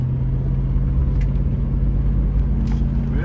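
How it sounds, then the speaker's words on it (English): A 1988 Mercedes-Benz W126 420SE driving on the road, its steady low engine and road rumble droning continuously at an even level with no voices. "But yeah, it drives very nicely, Bella."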